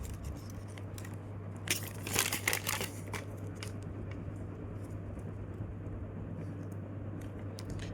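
Paper being folded into an origami jet: a short burst of crinkling and creasing rustles close by, then quieter scattered paper handling over a constant low hum.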